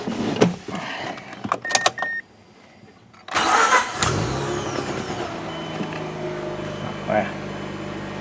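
Mazda RX-8 R3 with a rotary engine being cold started: a few clicks and a brief starter whir, then a pause, then the engine cranks and catches into a loud idle. The idle settles into a steady rumble with some revving.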